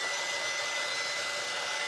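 A hair dryer blows steadily on wet paint on a wooden sign, a continuous close whooshing hiss with a faint motor whine, loud and unbroken throughout.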